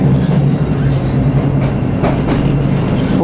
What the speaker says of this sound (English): we're racing the Pendolino to Glasgow Central